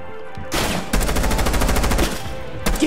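Rapid gunfire in Rainbow Six Siege: a sharp opening shot, then a dense, steady automatic burst of about a second, loud and close, closing with a single shot and no voices.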